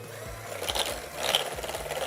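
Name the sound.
creaming brown sugar, sugar and eggs for peanut butter cookies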